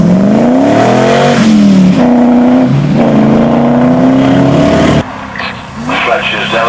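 A TVR V8S race car accelerates hard at a Loton Park hillclimb, its V8 loud and close, climbing through several gear changes before cutting off sharply, while an announcer talks over it.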